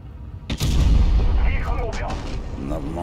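A tank cannon fires in the video game World of Tanks Blitz, one heavy close boom with a rumbling tail, and a voice talking over the aftermath.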